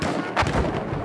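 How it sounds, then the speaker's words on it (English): A grenade going off in the Battlefield 1 multiplayer Conquest mode, one short heavy boom over a noisy battlefield background. "I threw a grenade."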